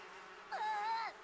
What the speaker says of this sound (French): maintenant c'est un ami de se faire attaquer par les abeilles